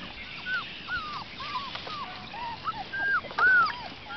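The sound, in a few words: dog whimpering, crying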